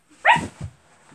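A single short dog bark from the cartoon dog Tracker of Paw Patrol, a sharp yelp followed by a softer second bark, close and clear, with no talking.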